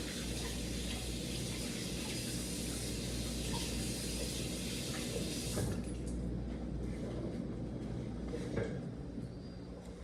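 Hands being rinsed under a running kitchen tap, a steady broadband rush of water flowing continuously into a sink, close and fairly loud, easing slightly toward the end.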